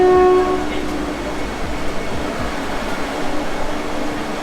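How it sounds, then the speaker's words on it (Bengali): A Vande Bharat train stands at platform 10 of Howrah station, giving a brief horn-like tone at the start, then a steady low rumble of platform and train noise throughout. "বন্দে ভারত এখনই প্ল্যাটফর্মে এসে দাঁড়িয়ে আছে 10 নম্বর প্ল্যাটফর্মে"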